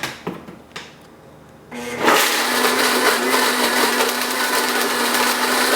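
A few light knocks and clicks come first, then a blender roars to life and grinds steadily and loudly on raw blueberry filling with vanilla for the rest of the clip.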